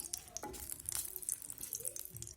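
Two red chillies fry in hot oil for a tadka for spinach kadhi, giving a steady close crackling sizzle with sharp pops and spits throughout, no voices.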